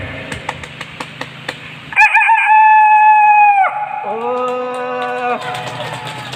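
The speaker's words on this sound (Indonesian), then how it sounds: "Nih, dengerin suara ayam yang keren." A rooster crows loudly and close by, one long drawn-out call that breaks into a lower second part, with faint tapping before it.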